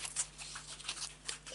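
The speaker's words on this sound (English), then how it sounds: "we'll just give them a quick shuffle here" Tarot cards are riffled and shuffled in a short, soft burst of papery rustles and flicks during a relationship reading, quiet and close with no voice over it.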